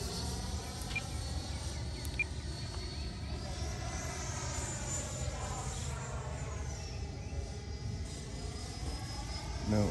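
A Freewing Avanti S V2 sport jet with an 80mm electric ducted fan flies in low wind, its steady loud whooshing whine holding throughout and shifting gently in pitch as it passes.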